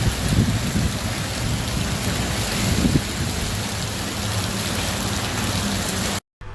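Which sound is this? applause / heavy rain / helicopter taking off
heavy rain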